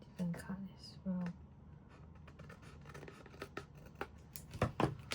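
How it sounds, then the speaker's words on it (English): Scissors trimming paper for a handmade craft orchid flower, soft close snips and paper scraping, very quiet, with brief murmured speech near the start. "Maybe I'll do a bit of trimming here, different cut as well."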